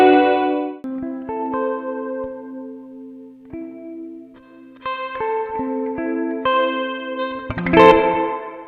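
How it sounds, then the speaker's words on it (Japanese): Clean electric guitar notes and chords run through a Strymon BlueSky reverb in modulation mode, swelling into a wide, shimmering, chorus-like wash that rings out between the picked notes, with a brighter strum near the end. "リバーブにモジュレーションがかかったコーラスっぽい広がりのある音ですね。"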